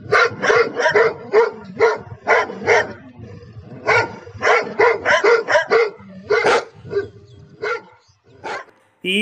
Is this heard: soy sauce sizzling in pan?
no